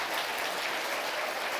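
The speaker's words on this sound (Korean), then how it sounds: "우리 모두 감사의 박수를" Congregation applauding in a church worship hall, a steady, dense wash of many hands clapping at once, fairly close and even throughout with no voices over it.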